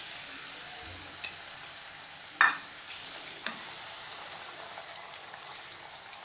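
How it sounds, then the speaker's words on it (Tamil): Tamarind water hisses and sizzles steadily as it is added to frying masala in a hot pan for okra tamarind curry, with a few faint clinks of a utensil against the pot. "இப்போ வந்து ஊற வச்சுக்க புளியை கரைச்சி சேர்த்துக்கலாம்."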